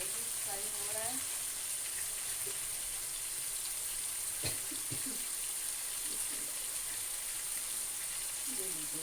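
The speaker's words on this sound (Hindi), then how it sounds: "साथ ही हमारा कीमा रखा है वो भी फ्राई हो रहा है" Keema (minced meat) frying in a pan for keema matar, a steady soft sizzle running throughout with faint watery clatter and a brief knock near the middle.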